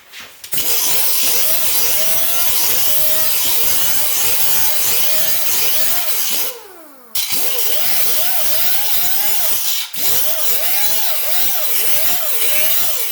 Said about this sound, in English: and I'll grind this down flat to that.